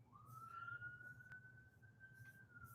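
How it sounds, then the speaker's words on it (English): A single siren wails far off outside a campsite, rising at the start and then holding a long, faint steady tone against a quiet outdoor background. "And you hear I got sirens going."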